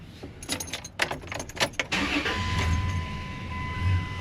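Keys jangle, then a Dodge Dakota 3.7 engine with a melted wiring harness cranks and catches, stumbling into an uneven, rough idle that wavers slightly, heard close up.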